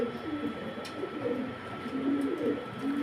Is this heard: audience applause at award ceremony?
no